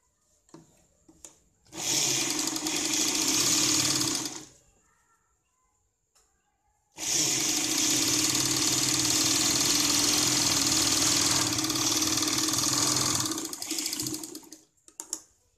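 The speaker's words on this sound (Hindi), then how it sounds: "यहाँ से हम सीधी सिलाई लगाते हैं" A sewing machine runs straight stitching on a blouse in two bursts, one short and one long, with a loud steady whirring hum, separated by a near-silent pause with faint clicks.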